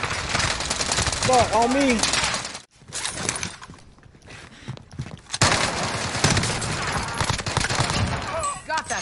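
Loud bursts of automatic gunfire crackle in a shooter video game, broken by a short lull before another sustained volley. A player shouts excitedly over the shots.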